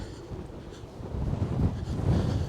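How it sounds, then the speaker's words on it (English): Gusty wind on a street in Grimsby buffets the microphone with low, rumbling blasts that swell and ease unevenly, growing stronger toward the end. "It's very windy"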